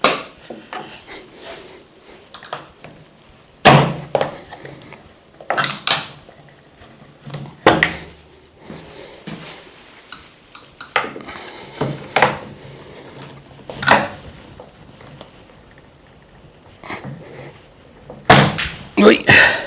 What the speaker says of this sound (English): I think I'm going to take this door off